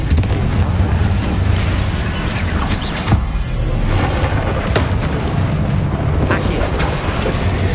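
Bombarda spell explosions in the game Hogwarts Legacy: a steady barrage of loud, deep booms and bursts rolling together, with sharper blasts near the three-second mark and later, over a dense rumbling battle din.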